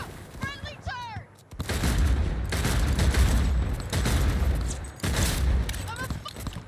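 Rapid bursts of turret gunfire from the Cyberpunk 2077 video game, loud and sustained with brief pauses, mixed with booms and game effects and faint voices.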